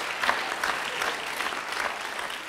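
A church audience breaks into sustained applause, a dense steady patter of many hands clapping at moderate distance, continuing without pause.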